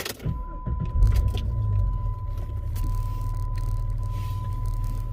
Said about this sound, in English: Let's go ahead and start up the car.